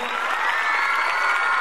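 Students at a Shri Satya Sai Vidya Mandir school gathering cheer loudly as achievers are honoured, a brief, dense burst of crowd shouting.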